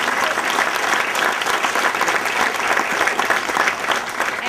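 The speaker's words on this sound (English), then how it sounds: "So let's give her another round of applause." Steady, full applause from a high school graduation audience, a dense sustained wash of many hands clapping at an even level throughout, with no voices standing out above it.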